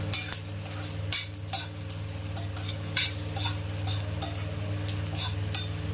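Whole spices roasting in a little oil in a pan for mutton kuzhambu, stirred with repeated scraping strokes every half second or so over a steady low hum, with faint crackle between strokes.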